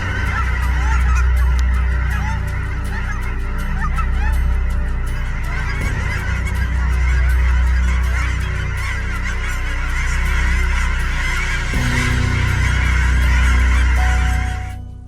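A large migrating flock of geese honks loudly and continuously, many overlapping calls forming a dense, close chorus.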